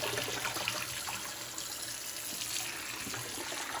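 A strong water jet rinses dirty pottery dishes, giving a steady, close, full-bodied hiss and splash that runs evenly without a break and with no voices.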